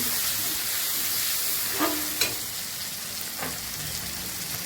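Food seasoned with chilli powder and salt fries in a pan with a constant hissing sizzle, broken by a couple of soft scraping strokes as it is stirred.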